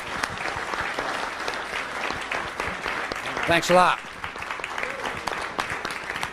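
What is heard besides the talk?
audience applause for a lecture guest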